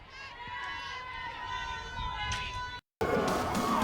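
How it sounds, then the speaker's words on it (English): A nervous Missouri softball crowd murmurs and calls out in the stands during the final inning, a steady mid-level din with scattered shouts, briefly cut to silence before resuming louder. "Hear the nerves banging around in the Missouri crowd."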